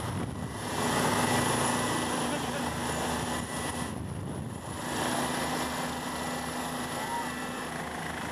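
A rescue helicopter with firefighters, heard as a steady loud rotor and engine drone throughout, close by and continuous, with voices faintly mixed in.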